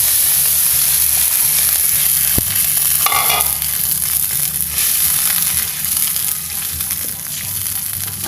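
Water poured onto dried, frying spice paste for tempe soup sets off loud, continuous sizzling and bubbling with a brief clatter partway through, easing slightly toward the end.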